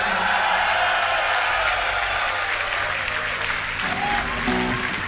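A rock concert audience at Firefest cheers and applauds a band on stage, with dense clapping and crowd roar throughout and brief tonal stage sounds toward the end.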